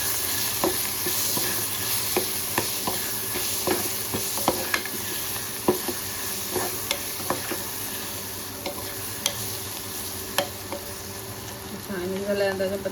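Masala, turmeric and salt being stirred in a frying pan, a steady sizzle with repeated scraping and clinking strokes of the spoon running throughout, close and fairly loud.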